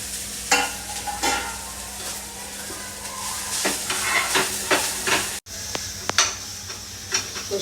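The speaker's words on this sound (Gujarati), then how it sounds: "અને આનો વઘાર કરી નાખું." Hot oil sizzles steadily as asafoetida and ginger-chili paste are tempered in a home kitchen, with a utensil stirring and scraping the pan in irregular clanks over the continuous frying hiss.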